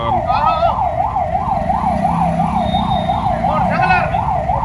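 An ambulance siren wails in a steady, rapid rising-and-falling pattern, loud and close, over a low rumble of idling traffic jammed near the civil hospital in Samana.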